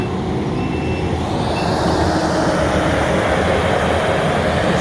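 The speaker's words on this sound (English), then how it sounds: "He's going uphill, dragging that rock, and that skid steer is" A skid steer loader dragging a large rock uphill while building a livestock drinking rock pad at a pond: a loud, continuous engine roar with heavy rumbling, steady throughout and without speech.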